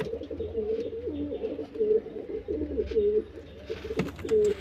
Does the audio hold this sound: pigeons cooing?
yes